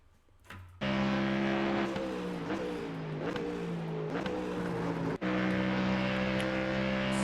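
A Ford Mustang GT3 race car in the iRacing sim, its engine roaring loud and sustained with pitch rising and dropping through gear changes, cutting briefly near the end before resuming.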